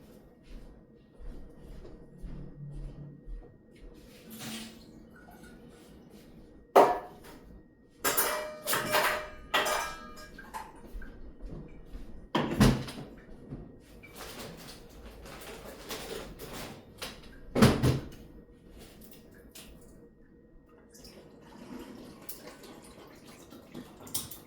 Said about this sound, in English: I'm getting my rude boy some fresh water with ice.